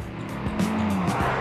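Skoda Octavia VRS police car engine running close by, a steady drone with a brief rising tire squeal in the middle of a short burst.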